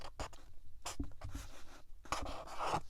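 A marker writing a label for a packed closet box: close, irregular squeaky strokes and taps, quiet and alone with no talk.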